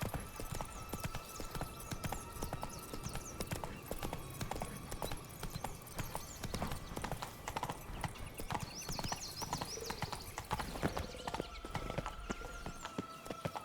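Horse hooves clip-clop at a steady galloping rhythm in the video game The Witcher 3, with a brief whinny partway through. The sound is fairly quiet and layered over game ambience, with no talking.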